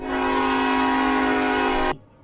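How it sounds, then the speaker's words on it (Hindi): A train horn or whistle blasts loud and steady for about two seconds, a sustained harmonic tone used as a horror-story sound effect for a train arriving, then cuts off abruptly. "रेल आ गई"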